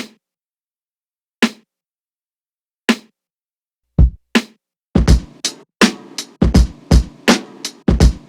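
A sharp snare sample hit with its low end filtered out repeats a few times alone, then a busier drum pattern joins in with rapid, crisp hits building toward the end.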